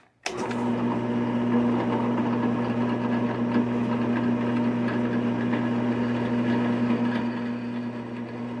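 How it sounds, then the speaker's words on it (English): A power sander runs on wood for woodworking projects, holding a loud, steady motor drone with a sharp start and a constant hum for the whole stretch, with no talking. "And then I'm going to take it over to the sander."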